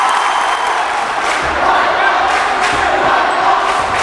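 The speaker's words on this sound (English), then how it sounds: "Big, early, and loud crowd here." A packed gym at a high school basketball game between Pembroke and Pelham, with a dense, loud crowd roar and cheering that swells in waves throughout.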